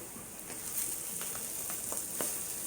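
Mushrooms brown in a hot pan with a faint, steady sizzle and soft crackles, quiet and close, with no voices.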